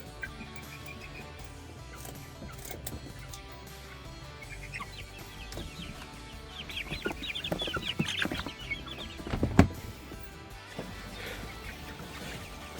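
Chickens cluck close by, several birds calling in short bursts that grow busier and louder toward the end, with a few sharper squawks.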